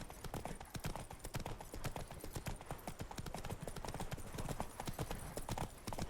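Roach the horse trotting in The Witcher 3 video game, brisk, steady hoof clip-clops close by in an even rhythm, fairly quiet throughout.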